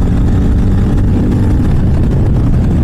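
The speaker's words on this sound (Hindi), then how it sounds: "भाई, क्या साउंड है यार इस बाइक की" Hero Mavrick 440 motorcycle engine running steadily, a loud, close, continuous low rumble with no pauses and no talking.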